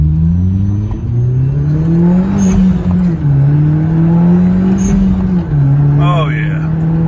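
A 2011 Hyundai Genesis Coupe 2.0T with a Mishimoto intercooler and piping pulls hard in first gear, its engine note loud, close and rising steadily in pitch across the clip, with a brief dip near the shift.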